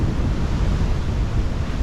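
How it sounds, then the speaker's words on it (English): Heavy surf from powerful ocean waves after a big storm, a continuous loud roar of breaking water mixed with strong wind buffeting the microphone, close and steady throughout with no talking. "Look at these waves coming through."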